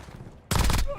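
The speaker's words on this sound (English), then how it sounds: "I'm taking effective fire" A short, loud burst of rapid gunfire erupts abruptly in a first-person shooter video game after a quieter lead-in, with a faint tone trailing at the end.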